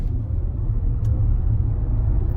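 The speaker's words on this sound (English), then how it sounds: "I'm gonna give it some gas here." A 2019 Audi e-tron electric car accelerates in dynamic mode, giving a steady low rumble of road and cabin noise without a strong engine note.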